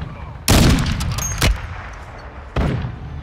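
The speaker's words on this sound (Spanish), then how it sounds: "Yo escucho tiros por todos lados" Loud gunshot bursts from Call of Duty: Modern Warfare II, a heavy blast followed by a shorter crack and another burst a second later, with faint background noise between.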